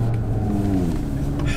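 An Audi RS3 sliding sideways on a snowy road, its engine a steady, loud, close rumble with a rising drone through the short stretch.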